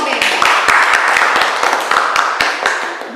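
Classroom applause for a student group, quick uneven clapping from several people at close range, fairly loud and steady for a few seconds.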